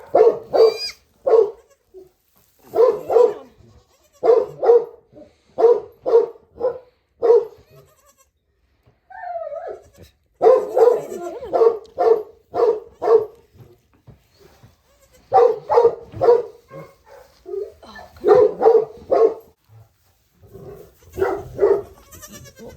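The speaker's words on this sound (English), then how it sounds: "trying to keep the Omega hound from barking" A dog barks repeatedly in quick bursts, close by on a goat farm in bitter cold, with short pauses between volleys and a brief quieter stretch midway.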